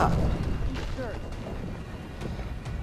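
An explosion booms in the first-person shooter Far Cry 3, a heavy burst at the start that rolls off into rumbling debris and scattered pops while someone talks excitedly over it.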